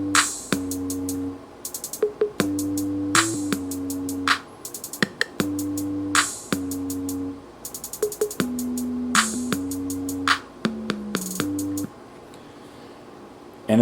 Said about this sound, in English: the bass and drum parts that we put together sound like this.